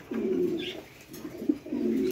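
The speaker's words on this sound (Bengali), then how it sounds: "ও, এটা কি কবুতর ভাই?" Pigeons at a bird market give three deep, rolling coos in a row with short gaps, fairly close, against a quiet background with a faint chirp.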